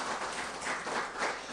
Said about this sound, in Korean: 우리 함께 환영의 박수 함께 하나님께 드리겠습니다